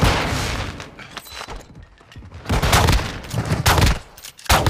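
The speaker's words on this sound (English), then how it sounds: "Throwing flash grenade!" Heavy gunfire and booming blasts go off in a Call of Duty DMZ firefight as a flash grenade is thrown, in loud dense bursts split by a brief lull, with no talk.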